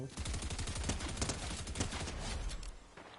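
Rapid bursts of automatic gunfire from a Bed Wars video game crackle in quick, dense volleys for about three seconds. The shots are loud and close, then thin out near the end.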